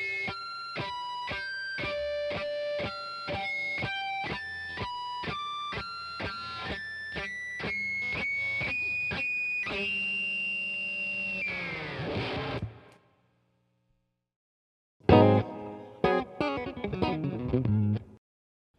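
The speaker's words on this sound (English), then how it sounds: "You can really hear those harmonics when you've got some distortion." A Fodera Emperor custom electric guitar played through distortion rings out in a run of bright picked notes with strong harmonics, then a long sustained chord that fades to silence before a short burst of distorted playing.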